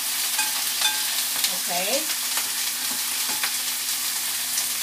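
Onions sautéing in a pan for ginisang monggo with gata, a steady bright sizzle with occasional stirring scrapes throughout, close and fairly loud, with a brief spoken word over it.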